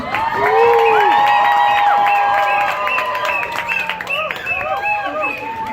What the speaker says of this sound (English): practice your best cheering and make as much noise as you possibly can